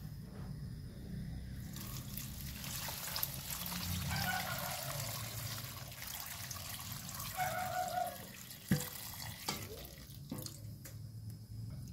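Coconut milk is poured over sliced bananas in a pot while making a banana snack, giving a soft, steady liquid pour and trickle with a few light clanks, fairly quiet and close.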